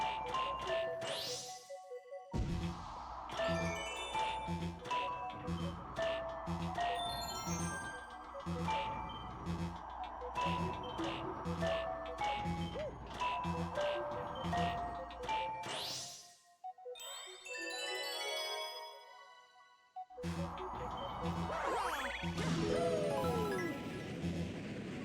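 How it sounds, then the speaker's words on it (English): Repeated bright dings and jingling tones from the Super Mario Galaxy video game, layered over steady game music with rhythmic chimes, briefly dropping out before the tones and music return. "And now I have to deal with that beeping."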